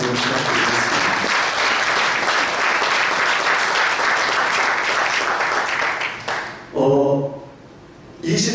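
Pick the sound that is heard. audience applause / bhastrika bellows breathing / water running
audience applause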